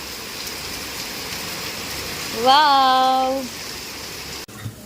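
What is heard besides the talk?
heavy rain falling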